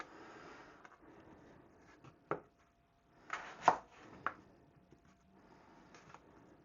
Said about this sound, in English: You can cut them into whatever shapes you'd like.